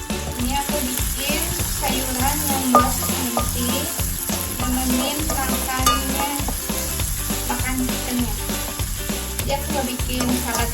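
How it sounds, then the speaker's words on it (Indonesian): Vegetables sizzle steadily while being stir-fried in a hot pan, with a continuous crackle and a regular clatter of a utensil stirring and scraping, close and loud throughout. "Jadi aku bikin sayuran yang ditumis aja pakai ini."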